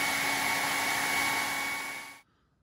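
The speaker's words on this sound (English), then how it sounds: "And then I'll dry that with a hair dryer." A hair dryer blows steadily at close range, drying acrylic paint on a wooden decoy, a loud continuous whoosh with a faint whine that stops abruptly near the end.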